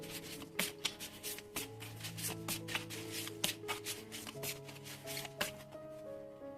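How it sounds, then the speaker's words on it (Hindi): Tarot or oracle cards being shuffled by hand, a steady run of close, crisp riffling and sliding bursts with no talk. "तो शुरुआत करते हैं मोनोलॉजी के कार्ड से शफल करके"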